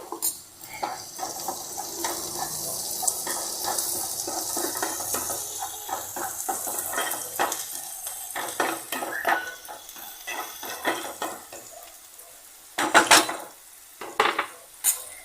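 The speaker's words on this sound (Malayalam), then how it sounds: "മസാലക്കൂട്ടെല്ലാം ചേർത്ത് അതിനെ നമ്മൾ വഴറ്റും." Spice masala with turmeric being sautéed for a Kerala-style beef dish, with steady clatter of a utensil stirring against a pan over a soft sizzle, ending in a few sharper scrapes and knocks.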